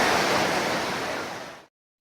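The waterfall at Cachoeira dos Pretos in Joanópolis roars as a loud, dense, broadband rush heard close up and without voices, then cuts off abruptly into silence.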